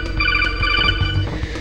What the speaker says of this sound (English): Yeah, you like my ringtone there?